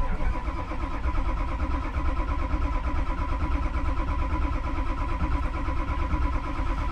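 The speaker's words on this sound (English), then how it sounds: "The reason for it being like a long crank like this is because obviously there's no oil in the fuel rails." Ford 6.0L Powerstroke diesel engine cranking after an injector replacement, with empty fuel rails and not yet firing: a loud, continuous, rhythmic starter churn held steadily and close throughout.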